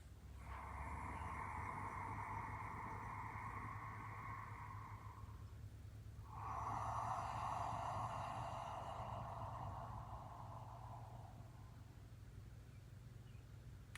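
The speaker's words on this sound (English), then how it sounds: "ocean breath, Ujjayi breath" Ujjayi ocean breath drawn through the nostrils with a constricted throat, two long soft hissing breaths, each several seconds long, separated by a brief pause, quiet and close, with no talking.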